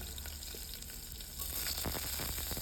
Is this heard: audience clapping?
no